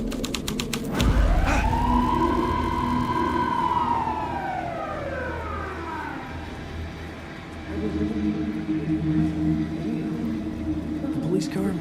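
A police car siren wails in Alan Wake 2, a long rising-and-falling tone that swells loud and then fades, followed by a low steady hum of ambient background.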